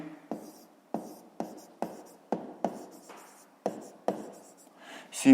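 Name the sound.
writing on paper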